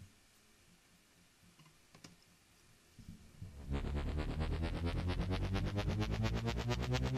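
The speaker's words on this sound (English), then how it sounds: "So first thing I'm gonna do is let you listen to the riser so you know what it sounds like." Synthesized riser effect from an electronic track, faint near-silence for a few seconds, then a loud pulsing, rapidly repeating synth buildup that swells and climbs steadily to the end.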